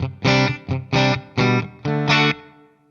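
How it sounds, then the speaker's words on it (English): Five or so strummed distorted electric guitar chords through a Laney LA-Studio Supergroup tube amp ring out one after another, each trailing into a long, washy reverb tail that fades at the end. "A lot more reverb on that one."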